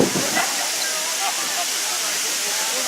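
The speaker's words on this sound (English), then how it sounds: "A lot of falls, and it rained this morning." A steady roar of rain-fed waterfalls in New Zealand, broad and hissing, constant throughout with no breaks.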